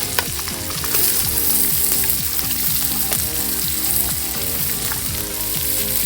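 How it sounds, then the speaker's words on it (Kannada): Onions fry in a pan with a steady close sizzle, while a spoon scrapes through them in quick repeated stirring strokes. "ಈರುಳ್ಳಿ ಹಾಕೊಂಡು ಫ್ರೈ ಮಾಡಿ"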